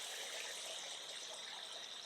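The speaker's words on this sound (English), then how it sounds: "I'm going to fill this up with water and let these just sit here until they thaw down" A kitchen tap runs steadily to fill a container with water for thawing chitterlings, giving a continuous soft hiss and gush with no pauses.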